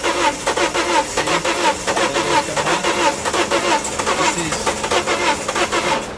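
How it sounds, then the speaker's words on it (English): A car with a faulty head gasket cranks over and over without catching, a steady run of dense, rhythmic starter-motor churning that stays loud and close throughout. "So the vehicle doesn't start now."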